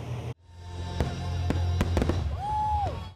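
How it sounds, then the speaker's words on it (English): Independence Day fireworks burst in a rapid string of sharp cracks and booms over a rumbling background, with a whistling shell rising near the end; loud and close. "Fireworks on the 4th are as old as the country itself"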